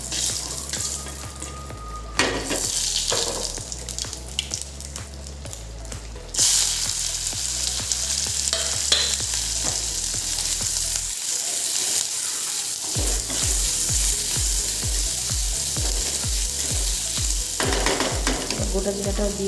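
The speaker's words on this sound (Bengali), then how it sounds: "তেলটাও গরম হয়ে গেছে, শুকনো লঙ্কাটা দিয়ে দিলাম, আর একটু গোটা জিরাও নিয়েছি ফোড়নে দেব।" Dried red chillies and whole cumin seeds hit hot oil for tempering, crackling and sizzling loudly and continuously, with a brief pause midway before the frying resumes at full strength.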